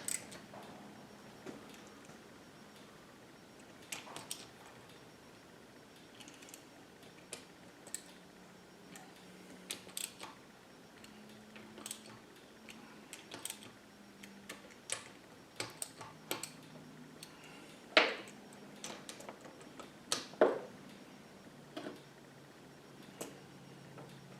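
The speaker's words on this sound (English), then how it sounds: "I'm going to go to redneck torque wrench to make them feel right" Small clicks of a ratchet wrench snugging the reed valve bolts on a Mercury 135hp V6 outboard, tightened by feel, come in short irregular bursts of sharp ticks close by, with no talking.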